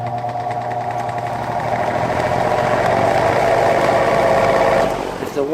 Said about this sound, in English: the sound of the bad bearings are overpowering it